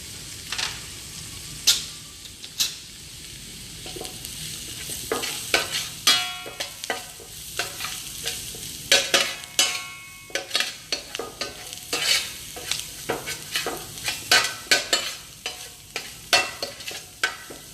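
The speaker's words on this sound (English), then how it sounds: "Cook for 2 more minutes, let the masala all cook well." Masala with coriander powder and turmeric frying in a pan, a steady sizzle broken by frequent scraping stir strokes that grow busier and more rhythmic toward the end.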